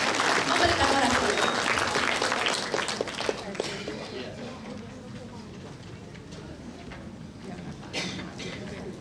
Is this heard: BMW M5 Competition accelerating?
no